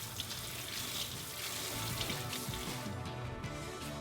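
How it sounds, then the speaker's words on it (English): Tap water runs steadily into a sink as a can of chickpeas is rinsed, a continuous soft splashing rush with no speech. "I'm just gonna rinse a can of chickpeas and put some on top."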